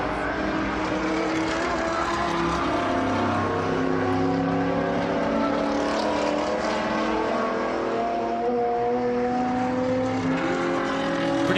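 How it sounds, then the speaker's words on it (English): Light blue painted Porsche race car at Sebring in an SVRA Group 6 and 12A race, its engine roaring steadily and loudly throughout with shifting harmonic tones, blended with other racing cars on the bumpy circuit. "here's that lovely painted Porsche"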